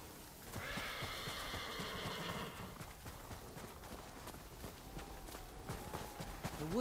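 A horse whinnies loudly near the start while hooves clop in an uneven walking rhythm, then the hoofbeats continue alone at moderate distance, in the video game Ghost of Tsushima.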